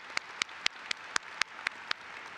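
A convention audience applauds, heard as a faint, thin run of about eight separate claps in a steady, evenly spaced rhythm over a quiet room.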